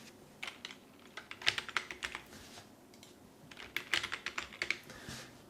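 Someone types an email on a computer keyboard in short bursts of crisp, close key clicks, with brief pauses between the flurries.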